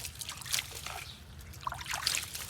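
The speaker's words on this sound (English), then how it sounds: "Firstly, I have to put some water" Water poured onto a toy sand truck, a soft close trickle and dribble with light splashy patches, quiet and without talk.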